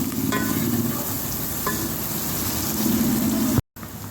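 Chopped onion pieces and long green chilies fry in a pan, giving a steady, close sizzle with faint stirring scrapes throughout and no talking.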